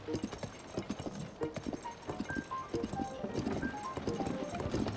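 Horse hooves clip-clop steadily in The Legend of Zelda: Tears of the Kingdom, a moderately loud, even rhythm of hoofbeats accompanied by light game tones, with no talking.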